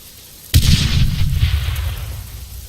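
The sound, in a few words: grenade explosion in a video game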